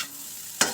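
Crispy burger sisig with chili being stirred in a hot pan, a faint sizzle building into one brief, loud scraping stir near the end.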